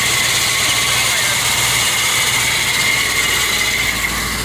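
A 1962 Chevrolet Bel Air gasoline engine idles steadily and loudly up close, a continuous even drone with a broad hiss over a low hum, running alone without pauses.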